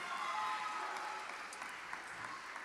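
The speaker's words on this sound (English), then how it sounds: "Give them a round of applause." An audience at a National Junior Honor Society induction ceremony applauds in a steady, dense wash of clapping, heard faint and from a distance throughout.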